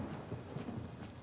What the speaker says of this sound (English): Oh my god, the lightning.